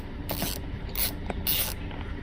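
A compact T15 Torx ratchet tool removing screws from a Nissan Versa/Tiida door window switch panel, giving three short, crisp bursts of rapid ratcheting clicks close up, with quiet pauses between.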